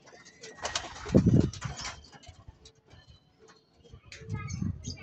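Pigeons at a drinking trough in Lucena, Quezon, with soft cooing and scattered bird calls in two brief bursts, a low rumble near the start and again near the end.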